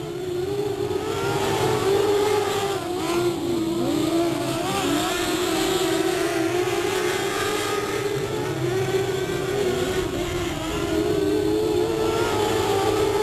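Race cars at Delta Speedway accelerate together at the green flag, a dense roar of engines rising and droning steadily in the distance for the full stretch.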